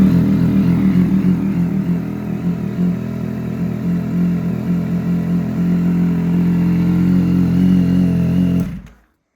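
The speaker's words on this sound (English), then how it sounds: "it sounds really good, like every exhaust on this motorcycle" A 2024 Yamaha MT-09 fitted with a Leo Vince exhaust running on a dyno, giving a steady, loud, close engine drone with a slight throb that holds for about nine seconds and then cuts off abruptly.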